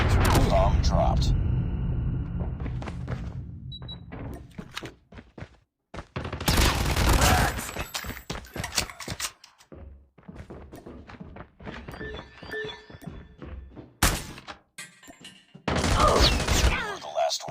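Explosive thuds, booms and bursts of rapid gunfire from a video game come in loud, uneven clusters broken by short silences, with in-game voice callouts between them.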